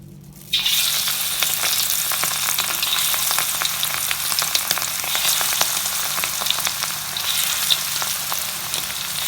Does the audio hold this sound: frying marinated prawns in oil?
yes